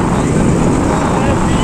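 Motorbikes roar steadily close by in a New Year's Day bike rally, a loud continuous engine and wind rush with voices mixed in.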